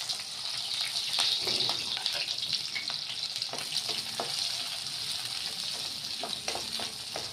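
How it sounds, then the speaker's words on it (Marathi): Sliced onion and three to four green chillies fry in a pan with a steady bright sizzle, punctuated by scraping stir strokes throughout. "इथे एक कांदा घेतलेला आहे कापून हा कांदा टाकायचा आता आणि तीन ते चार मिरच्या घेतलेल्या आहेत त्या मिरच्या टाकायच्या"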